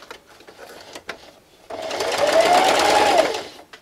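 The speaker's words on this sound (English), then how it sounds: "And I'm just going to sew." Sewing machine running in one continuous burst of about a second and a half, stitching skeleton-print fabric for a Halloween treat bag, preceded by faint handling noises.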